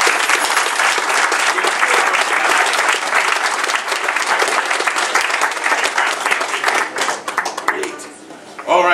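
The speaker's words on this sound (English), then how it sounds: "Can you give the students one more round of applause?" Audience applause for students at a Christmas concert, a dense sustained clapping from a large crowd, loud and close, thinning toward the end with a few scattered claps.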